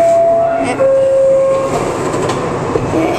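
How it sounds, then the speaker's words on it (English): A New York City subway 1 train bound for South Ferry runs with a steady, loud rumble and a high motor whine that holds one pitch, then shifts to another, under a faint background murmur. "This is a South Ferry bound 1 train."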